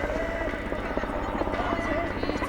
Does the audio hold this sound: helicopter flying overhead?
yes